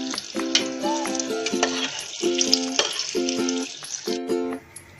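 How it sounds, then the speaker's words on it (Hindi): Chocolate pakoras frying in hot oil, a steady bright sizzle running continuously and close, with repeated stirring or utensil clinks and bursts of tonal sound over the top. "अब इसको हम फ्राई कर लेंगे।"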